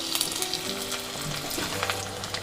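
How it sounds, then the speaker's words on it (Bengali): Chopped garlic sizzles and crackles as it hits hot mustard oil in a small pan, a steady, close frying hiss with occasional sharper pops and no voices. "তেলটা গরম হয়ে গেছে এবার এর মধ্যে দিয়ে দেবো রসুন কুচি"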